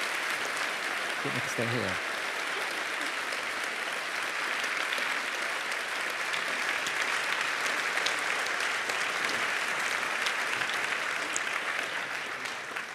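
Audience applause after a lecture on Islam, a dense, steady wash of clapping filling the hall for several seconds, with a brief spoken remark near the start.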